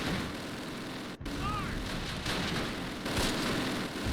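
Mortar fire in the Close Combat game thuds low and rumbling under a steady wash of battlefield noise. A few distant bursts carry the sound along, and a brief whistle cuts through.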